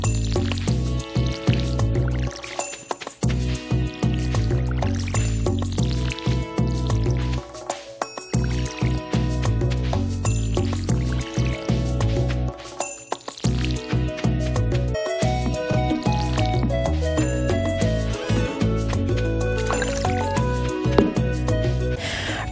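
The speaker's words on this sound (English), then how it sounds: "I'm going to water the rest of my crops before I do anything else." Crops are watered in the Stardew Valley video game: repeated splashing, dripping watering-can effects sound over continuous upbeat game music.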